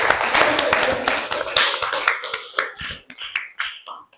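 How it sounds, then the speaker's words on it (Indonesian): An audience in an Indonesian classroom or training session claps their hands, dense at first and then thinning into scattered, separate claps that fade out by the end. "Kasih tepuk tangannya."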